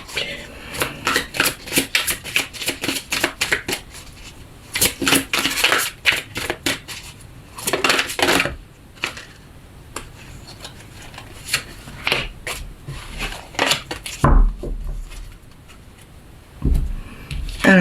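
Tarot cards being shuffled and drawn, bursts of crisp riffling and flicking in irregular clusters with short pauses between, close up, with occasional soft taps and handling noises.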